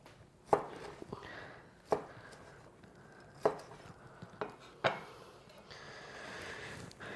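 A knife cuts through a thick wagyu beef steak, landing five crisp, evenly spaced chops on a board at a slow, steady pace, quiet and close with no talking.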